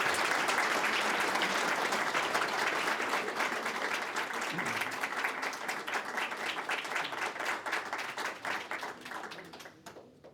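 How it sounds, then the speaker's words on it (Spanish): A book-launch audience applauds warmly for the novelist, dense sustained clapping from a crowd that stays loud for most of the stretch before thinning and fading out near the end. "les pido también juntar las palmas para aplaudir calurosamente la presencia entre nosotros de Rafael Sequeira"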